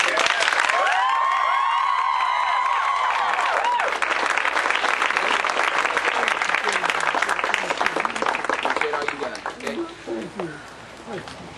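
A live audience applauds and cheers for a band, a whistle and shouts rising over sustained clapping that stays loud for several seconds before thinning and fading out.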